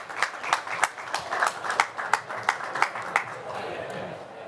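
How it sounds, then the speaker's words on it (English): Scattered audience applause at a finance conference event, moderately distant claps with distinct sharp hand strikes standing out from a softer crowd wash, tapering off toward the end. "This is your round of applause."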